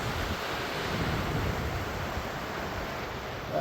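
Ocean waves wash onto the beach at St. Petersburg, Florida, a steady broad roar mixed with wind buffeting the microphone, with no voices.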